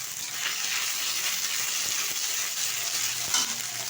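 Ginger paste and fenugreek seeds fry in hot oil for a Bengali shukto, a steady, loud, close sizzle that crackles continuously throughout with faint stirring and no talking.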